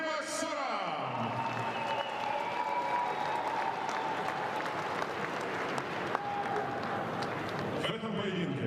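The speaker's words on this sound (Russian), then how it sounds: "Господа, и вновь аплодисменты боксерам!" Crowd applause for boxers at a world championship boxing event, a continuous roar of clapping and cheering with an announcer's voice over it, steady and loud throughout.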